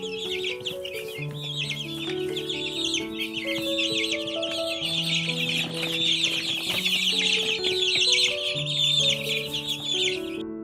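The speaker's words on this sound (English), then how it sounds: "Chick." A young chick chirps rapidly and continuously in high, thin peeps over gentle background music, with no talking.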